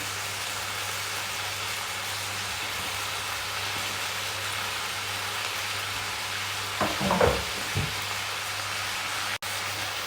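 Garlic powder, carrots and onion fry in a pan for a beef goulash in tomato sauce, producing a constant even sizzle. Brief stirring clatter comes through near the end. No voices.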